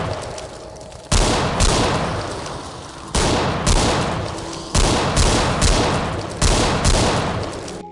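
Gunshots in Road to Fiddler's Green, heavy booming reports fired in a slow, fairly even series of about six, each blast loud and close with a long decaying tail.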